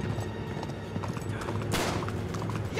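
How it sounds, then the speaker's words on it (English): A horse in the Uncharted 3 video game clops along with hoofbeats at moderate volume, and a brief burst of noise breaks in near the end. "Where did that old horse go?"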